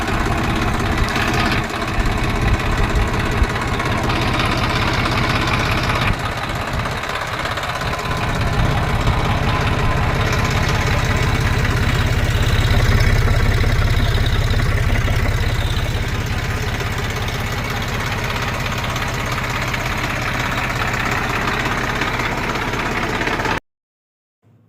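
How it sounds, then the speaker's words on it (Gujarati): A 2015 Massey Ferguson 1035 DI tractor in good condition idles with a steady, even diesel rumble throughout, close and loud, before cutting off abruptly at the end. "જે તમે 1035 DI મેસી ફર્ગ્યુસન ટ્રેક્ટર વિડીયોમાં જોઈ રહ્યા છો"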